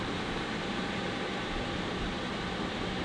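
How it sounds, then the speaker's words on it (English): Portable air conditioner running nearby, a loud, steady broadband whoosh like a white noise machine, unbroken throughout. "So this thing is actually a little bit louder than I thought it would be."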